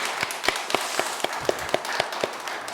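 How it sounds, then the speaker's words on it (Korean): A church congregation claps together in a light, even rhythm of about a dozen distinct claps, fairly faint and without voices. "너무 감사해서 한번 박수 한번 치시죠"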